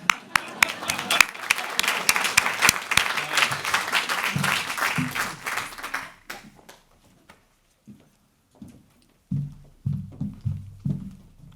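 An audience at a Massachusetts business forum on housing costs applauds, a crowd of hands clapping for about six seconds before fading out, followed by someone speaking alone.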